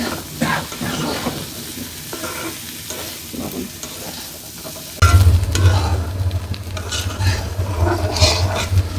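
Potatoes frying dry in hot oil while being stirred, a steady sizzle with scraping stirs that swells louder halfway through, no talking.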